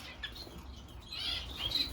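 A few faint, high Gouldian finch chirps over a low, steady background hum.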